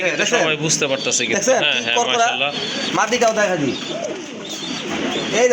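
Pigeons for sale at a Bangladeshi seller's coop coo in soft repeated warbles close by, underneath someone talking continuously throughout.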